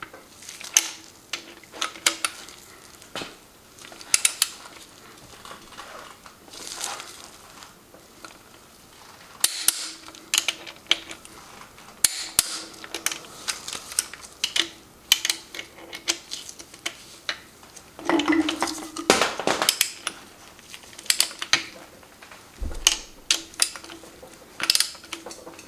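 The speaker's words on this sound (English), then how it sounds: "We're torquing these down and checking clearance." Sharp ratcheting clicks and snaps from a torque wrench tightening engine case bolts on a Subaru BRZ, coming in irregular bursts at close range in a quiet workshop.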